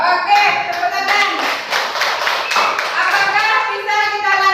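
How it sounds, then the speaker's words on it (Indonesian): A school class claps hands together in a classroom, a busy burst of many hands patting rapidly and fairly close for several seconds while children's and a teacher's voices mix in. "Oke, tepuk tangan."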